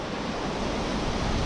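Water gushing from the edges of a burst water tank high in the Taurus Mountains, a loud continuous broadband rush like a small waterfall, steady throughout with no voices.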